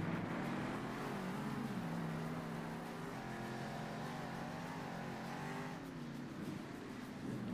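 Monster truck engines drone steadily through a race in Monster Jam Steel Titans, a constant loud mechanical hum whose pitch rises and falls slightly as they accelerate, with no talking.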